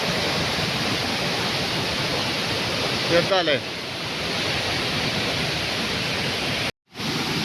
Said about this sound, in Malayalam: ഈ കാട്ടിലുള്ള കൂടെ പുഴ ഇങ്ങനെ ഒഴുകി വരുന്നൊരു അതിമനോഹരമായ ദൃശ്യം കിട്ടും